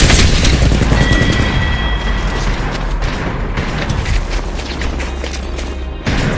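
Continuous heavy gunfire and booming explosions in a video game battle, loud and dense throughout with rapid cracks over a rumbling low end.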